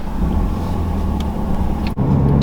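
2020 Volkswagen Jetta GLI with its 2-liter four-cylinder pulling away, a steady close engine drone with a short clunk near the end, then the hum resumes.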